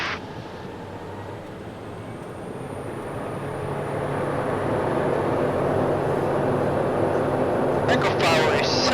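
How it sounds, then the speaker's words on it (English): A Pilatus aircraft engine spools up to takeoff power, a broad roaring drone rising in loudness and then holding steady and close, with a voice speaking briefly near the end. "Takeoff power is set"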